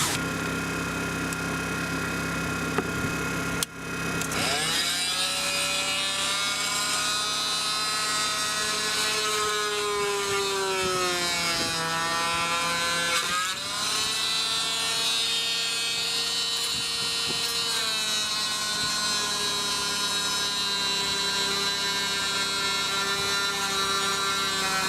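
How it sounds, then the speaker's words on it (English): A small Honda EU1000 inverter generator runs close by, loud and continuous, with a steady droning hum whose pitch rises and falls a few times as the engine changes speed. "So now we get to crank up the generator, make a lot of noise. It's a little Honda EU 1000."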